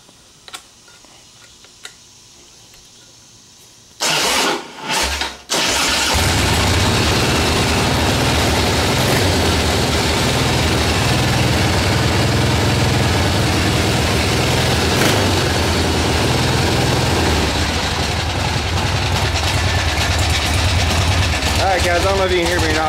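A cold 1981 Harley-Davidson Ironhead motorcycle starts after a few quiet clicks and a short sputtering crank, then settles into a loud, steady, lumpy idle that runs on close by.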